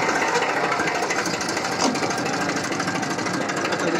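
Escorts 355 tractor engine runs at a loud, steady, rattling idle throughout, with a dense mechanical clatter and no talking over it.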